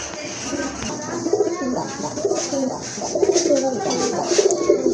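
Pigeons being sold at a market coo repeatedly in soft, throaty rolling phrases, several birds close by over a steady background murmur.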